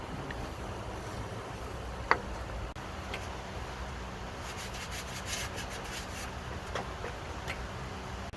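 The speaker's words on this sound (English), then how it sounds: "Let's go ahead and clean this thing up with some steel wool and WD-40" Steel wool soaked in WD-40 rubs against a panel of a 1980 Chevrolet C30 dually truck, a soft, faint scrubbing hiss with a few light taps and clicks and one sharp knock early on.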